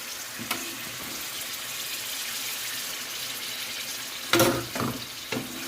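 Base gravy poured into a hot pan of BIR-style chicken madras curry, a soft steady sizzle with a brief burst of splashing and hissing near the end.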